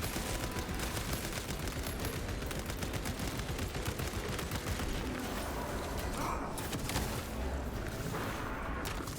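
Auto bolt rifle gunfire in a video game clears hordes of enemies, a dense, continuous rattle of rapid shots with heavy bursts, steady and loud throughout.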